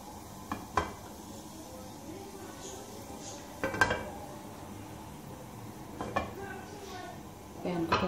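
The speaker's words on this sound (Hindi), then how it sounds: "अब इसमें कुटी हुई मिर्चें शामिल कर दूंगी" Crushed chilies go into hot oil in a pan and are stirred, giving a faint sizzle with scattered clinks and scrapes of a utensil against the pan.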